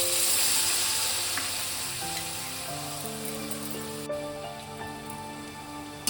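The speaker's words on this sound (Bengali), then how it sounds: "মিনিট 2 আমি ভালো করে মশলাটাকে কষিয়ে নিলাম" Spice paste being fried in a pan, with a continuous bright sizzle that eases slightly over time and an intermittent low tone underneath.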